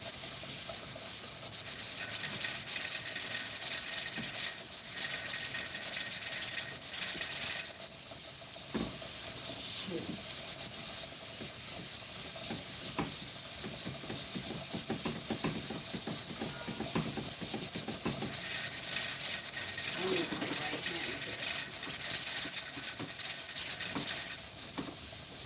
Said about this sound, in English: Just keep on stirring.